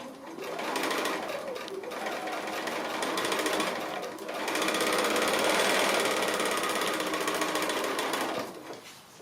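Sewing machine stitching fabric through the point of a wandering goose quilt block, a close, loud, rapid mechanical whir that runs in two long bursts with a short slowdown between.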